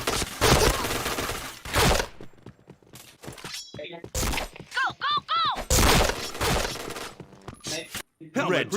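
Video game gunfire erupts in loud, harsh bursts separated by short gaps, with shattering impacts and chirpy effect sounds between the volleys.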